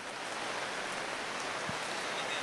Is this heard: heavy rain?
yes